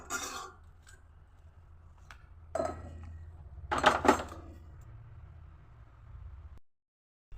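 Cooled ingredients for a coriander pickle are tipped into a mixer jar in a home kitchen, giving light clinks and scrapes of utensil on metal, with a couple of louder clattering bursts over a quiet background.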